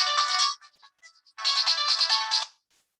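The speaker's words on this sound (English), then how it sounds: "Someone is trying to phone me." Phone ringtone for an incoming call: a bright electronic melody plays for about half a second, falls to a few faint scattered notes, then returns in a longer loud burst before stopping abruptly.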